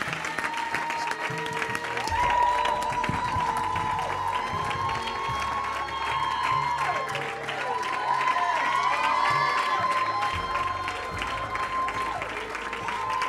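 A church congregation claps and cheers steadily throughout, dense sustained applause with whoops and raised voices, loud and close, with a held musical tone running beneath.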